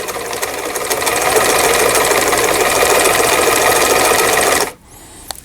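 A Janome 890 sewing machine runs steadily at speed while reverse stitching, a loud continuous mechanical whir with rapid rhythmic ticking, then stops abruptly near the end, leaving a quiet room.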